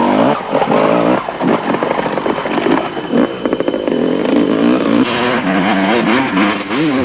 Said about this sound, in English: local hero Graham McLaughlin on his Lesotho Office Equipment Shell Honda was starting to catch up with some of the slower quads